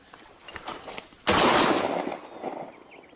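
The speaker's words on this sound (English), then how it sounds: "The gunshot rang out, and the wild boar collapsed instantly." A single hunting gunshot fired at a wild boar bursts out abruptly and loudly after a few faint rustles, then its blast decays in a rumbling tail over the next second.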